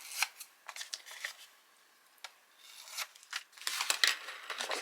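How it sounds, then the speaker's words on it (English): Scissors snip through scrap paper and cardboard while trimming a corner for a small folded book, a run of crisp close cuts and rustles with a short pause midway. "My scissors are not going right to the cardboard."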